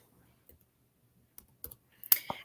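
Scattered clicks from a computer keyboard being typed on, a few light taps spaced apart and then a louder burst of clatter near the end, fairly close and quiet.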